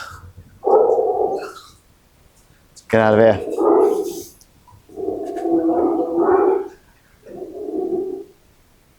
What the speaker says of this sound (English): Oh, a dog.